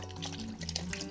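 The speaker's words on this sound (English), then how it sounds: "this is tasty, so I'm just adding it in" Store-bought chicken stock pours into a soup pot with a brief, soft liquid glug and splash, quiet and continuous for about a second with no voices.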